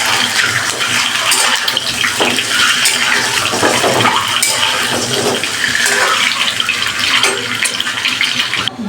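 Eggs frying lightly in oil in a pan for egg korma, a steady close sizzle with broad crackling hiss running the whole time and no one speaking.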